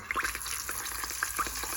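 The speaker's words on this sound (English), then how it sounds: "it's not gonna take very long for these soft shell crabs to fry up at all" Soft shell crabs fry in hot oil with a steady, close sizzle and small popping crackles, no voices.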